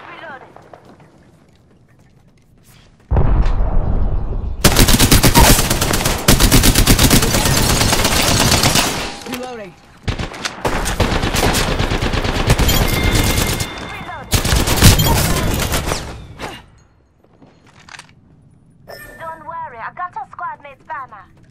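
Sustained, loud gunfire fills a battle royale match in the video game Apex Legends, rapid automatic bursts running for several seconds at a time, with short pauses and quieter game sounds between, and a voice speaking briefly.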